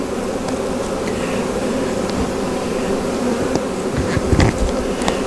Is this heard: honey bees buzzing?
yes